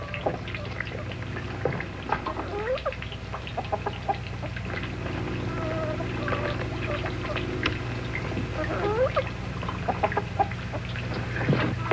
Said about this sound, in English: Chickens out in the wet.